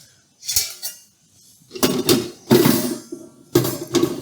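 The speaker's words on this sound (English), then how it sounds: "So we put our blade on here." Several sharp plastic-and-metal clicks and clunks as a blade is fitted onto a Magiccos 14-cup food processor, in four separate bursts, close and fairly loud with no talking.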